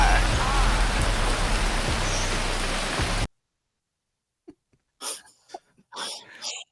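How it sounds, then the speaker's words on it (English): Steady rain pours across a broad wash for about three seconds, loud and continuous, then stops abruptly; after a pause, a few short voices or other sounds follow without rain. "Listen to the sweet songs of the rain."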